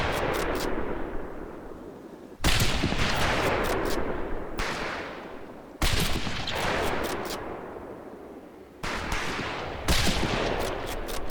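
Sniper rifle shots in the 2004 PC game Medal of Honor Pacific Assault: four loud, booming shots spaced a few seconds apart, each trailing off in a long echoing decay.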